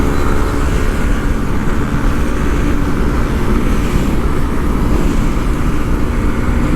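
A vehicle on the Dhaka–Chittagong highway produces a steady, loud, broadband roar of engine and wind noise that stays constant throughout, close and continuous with no talking.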